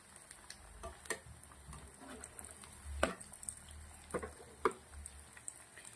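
Aloo paneer kababs fry in a pan with a soft, steady sizzle, broken by a few sharp clinks and taps as they are turned one by one, close and fairly quiet with no talk.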